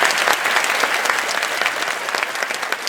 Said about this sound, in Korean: 한번 힘찬 박수 부탁합니다